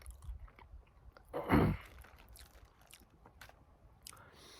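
Close, quiet chewing of a crunchy cricket and tuna burrito, with one louder crunching bite in the middle followed by softer mouth sounds and faint scrapes.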